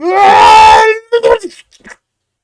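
A voice imitates a guttural scream from a redneck, a long, loud, sustained wail followed by a few shorter strained grunts that fade out.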